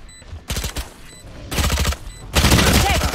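Video game gunfire in a shooter match: several rapid bursts of automatic fire, loud and close, separated by short gaps, with the last burst running longest.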